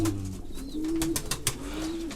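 Pigeons coo in low, drawn-out calls, several overlapping, close by in a loft of about 300 costume and tumbler pigeons in Konya, against a murmur of background noise and occasional soft clicks.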